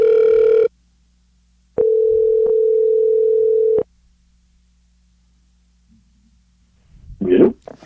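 An outgoing telephone call: a brief tone, then a longer steady ringback tone lasting about two seconds, loud and clean, followed by silence and a voice answering at the end.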